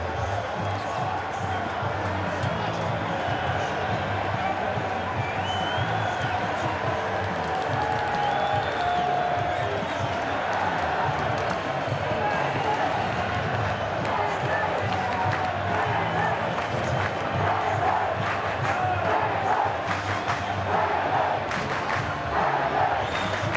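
A large rugby league crowd at a Manly Sea Eagles versus Melbourne Storm NRL match in 2011 cheers and roars steadily and loudly throughout, a dense wash of voices with scattered clapping and occasional whoops.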